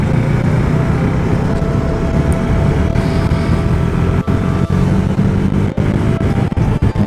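A 2020 KTM 390 Duke motorcycle riding on a chilly day, its engine droning steadily with loud, broadband wind rush throughout, a few brief dips midway and near the end.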